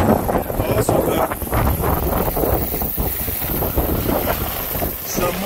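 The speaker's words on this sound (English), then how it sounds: "The wind is blowing like crazy." Strong wind gusts buffet the microphone outdoors on a ranch with sheep and goats, making a continuous loud roaring rush that surges and dips throughout.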